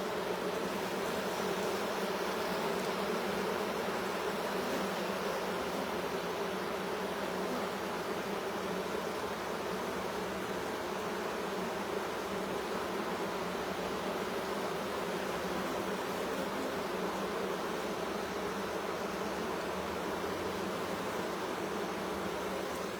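Honeybees buzz steadily during a hive installation, a soft continuous drone of many insects with no talk, even in level throughout.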